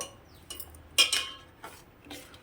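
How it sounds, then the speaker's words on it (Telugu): Spoon stirring sugar syrup in a pan on a medium gas flame while the sugar dissolves, heard as a few quiet, scattered metallic clinks and scrapes against the pan, with no talk. "చక్కెర అంతా కరిగేంత వరకు"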